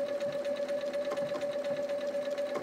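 Bernina sewing machine stitching quilt appliqué with white bobbin thread, a steady, continuous fast whirring hum with a tight mechanical needle rhythm, close and even throughout.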